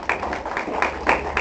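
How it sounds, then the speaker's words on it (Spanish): Church congregation clapping for the Lord during a Spanish-language sermon, a steady patter of many hands with rhythmic bursts, fairly close and moderately loud, no talk over it. "Denle un aplauso al Señor"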